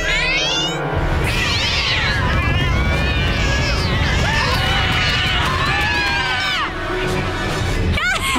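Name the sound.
cartoon cats meowing after catnip release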